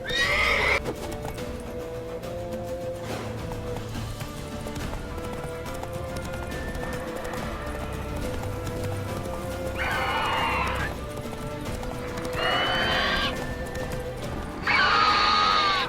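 Roach the horse from The Witcher 3 galloping, its hooves pounding in a steady rhythm throughout while several loud neighs and whinnies burst out at the start and again near the end.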